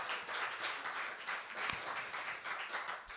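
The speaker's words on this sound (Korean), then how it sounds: "박수 한번 주세요." A church congregation claps together during a Sunday worship testimony service, a steady, fairly soft wash of applause that continues evenly throughout.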